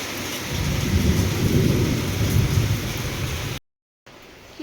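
Steady rain on a rainy morning, a dense close hiss of falling drops with a low rumble mixed in, running unbroken before a brief dropout near the end.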